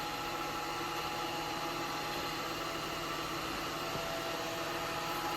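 Woodturning lathe spinning a burr workpiece for a clock, giving a steady continuous mechanical hum and whir that holds even and loud throughout, with no talk.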